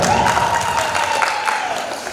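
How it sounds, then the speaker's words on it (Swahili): A crowd at a teachers' meeting in Singida, Tanzania, applauds a guest with continuous, dense clapping that fills the room for the whole stretch at a steady, fairly loud level, with voices mixed in. "Makofi tafadhali kwa madam"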